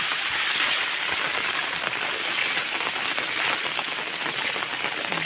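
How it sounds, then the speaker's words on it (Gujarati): Steady, loud rain pours down over flooded farm fields during a heavy downpour, a dense continuous hiss of drops with no break throughout. "વરસાદ અમારે હજી ચાલુ છે, વરસાદ વધારે વરસાદ આવ્યો ફૂલ"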